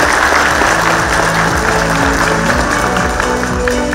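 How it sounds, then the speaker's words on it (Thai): A full audience at a formal award ceremony claps steadily throughout, a loud, even wash of many hands with a low hum running underneath. "ขอเสียงปรบมือด้วยครับ"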